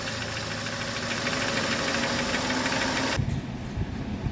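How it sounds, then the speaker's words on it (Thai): A Chevrolet Sonic engine idles roughly with a steady, rhythmic knocking close by, then drops to quieter mechanical clatter near the end. "ที่ รอบเครื่องยนต์นะคะ เดินตอกแตกตอกแตกนะคะ"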